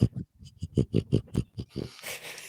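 A pet animal snorts and grunts in a quick series of about a dozen close, loud pig-like bursts, ending in a hissy wheeze.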